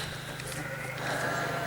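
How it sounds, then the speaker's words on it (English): Sheep bleat in a farm setting, a faint wavering cry rising over a low steady hum and outdoor background noise. "Oh, these sheep are noisy."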